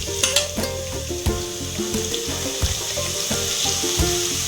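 Onion and tomato frying in oil for a Khandeshi surmai curry: a steady close-up sizzle with occasional spoon scrapes and stirring clinks against the pan.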